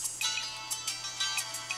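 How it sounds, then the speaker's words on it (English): A Google Nexus One smartphone plays a built-in ringtone: a bright, repeating pattern of short, evenly spaced chiming notes heard close up over a faint steady hum, with no talking. "there are tons of pretty interesting ringtones already included on the device"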